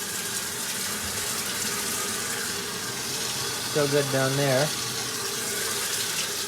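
Water rushes steadily through an RV's plumbing lines as the system is refilled during spring unwinterizing, a continuous hiss with a brief spoken remark partway through.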